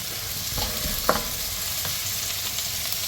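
Chicken fries in a pan while a utensil stirs it, making a steady close sizzle broken by a few soft scrapes and one sharper clink.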